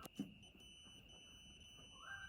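A faint, continuous high-pitched multimeter continuity beep holds steady throughout over quiet background noise.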